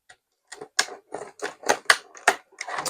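Scissors snipping through Barbie doll packaging up close, a quick irregular string of crisp cuts and plastic crackles, loud and alone without talk.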